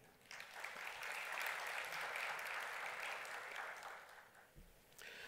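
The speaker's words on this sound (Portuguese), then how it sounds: "vamos receber com uma salva de palmas o doutor Alexandre Ateniense." Applause from a seminar audience welcoming a lawyer to the stage at a jewelry-trade fair, a steady broadband wash of clapping that swells and holds for several seconds, then thins out near the end.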